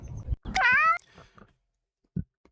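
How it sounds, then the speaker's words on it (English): A cat gives a single clear, drawn-out meow, close and prominent, preceded and followed by a few soft bumps and a short low thud in otherwise quiet surroundings. "It's cool watching cats do cat stuff all day."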